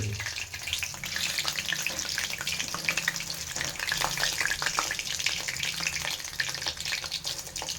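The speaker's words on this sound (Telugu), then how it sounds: "క్యూబ్స్ ఫ్రై చేసుకుందాం ఫస్ట్ ఫస్ట్ ఫ్రై చేసుకుందాం ఇట్లా వేద్దాం ఈ ఉల్లిగడ్డలు వేసిన నూనె ఉంటుంది కదా అందులోనే ఫ్రై చేసుకుందాం" Paneer cubes fry in oil left over from frying onions, crackling and sizzling in a continuous close, busy layer of bubbling spatter.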